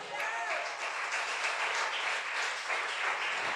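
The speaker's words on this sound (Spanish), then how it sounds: "A su nombre, dele fuerte el aplauso." A congregation claps during a church sermon on the Holy Spirit, a dense, steady wash of applause filling the whole stretch with some voices mixed in.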